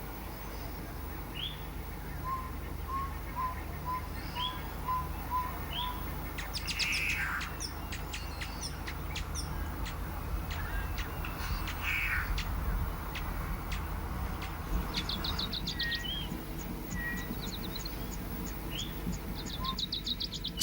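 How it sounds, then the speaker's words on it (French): Chirps, tweets and calls from a mixed flock of flamingos and other birds at Lake Nakuru, Kenya, with repeated short notes and scattered squawks from several distances over a steady outdoor background hiss. "Le lac Nakuru attire d'énormes concentrations de flamants et d'autres espèces d'oiseaux."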